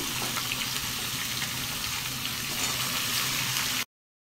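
Chopped onions sizzle in hot oil in a pan, with a steady, dense hiss that stays level and close, then cuts off abruptly. No voice is heard.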